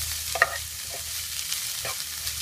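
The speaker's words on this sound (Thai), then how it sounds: "ก็ผัดให้โดนไฟทั้งสองด้านนะคะ" Pickled mustard greens and egg stir-fried in a pan give a steady close sizzle with a few scraping stirs of a spatula, no voices.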